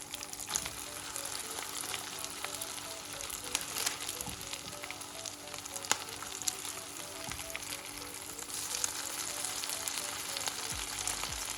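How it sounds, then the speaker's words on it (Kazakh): Potato and rice patties fry in a pan, each side browning for a few minutes, with a steady, close sizzle that crackles throughout and no talking. "Тіске басарларымызды әр жағынан 2-3 минуттан қуырып аламыз"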